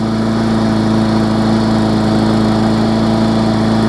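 Murray lawn mower engine running steadily nearby, a loud constant droning hum with a strong low tonal buzz and no change in pace, heard alone.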